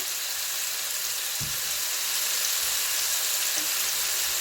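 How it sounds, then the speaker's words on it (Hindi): Chicken cooking in a pan over a medium stove for a peri peri chicken burger, giving a steady soft hiss of sizzling oil with a couple of faint low knocks, with no voices. "ईच साइड्स पर चिकन को 4-4 मिनट के लिए कुक करेंगे"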